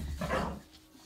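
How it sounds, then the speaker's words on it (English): A dog gives one muffled bark indoors at a moderate distance, short and isolated against a quiet room. "My dogs are helping, so if they get noisy, just yell at them."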